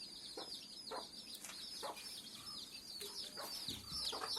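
A Thalassery chicken clucks in a series of short, close calls over a few seconds, with brief rustles and other fowl sounds mixed in against a quiet farmyard background.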